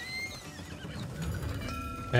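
A horse in the video game Trek to Yomi gives a clear neigh with clip-clop hoofbeats and ambient game sound beneath, then a brief louder hit at the end.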